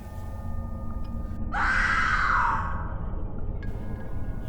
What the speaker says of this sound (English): A blood-chilling scream came from outside